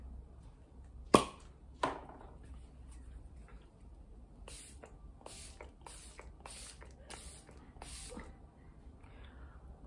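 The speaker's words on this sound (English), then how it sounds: "I've been using Maybelline New York Fix Me Spray" Maybelline New York Fix Me setting spray misted in a series of short, airy hissing bursts, about six quick sprays in a row after two sharper sounds, close and moderately loud over a quiet room.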